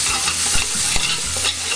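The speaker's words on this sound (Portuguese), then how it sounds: "Coloca o alho no final para ele não queimar muito." Garlic frying in olive oil, a steady close sizzle with scraping stir strokes of a utensil in the pan, loud and continuous over a short moment.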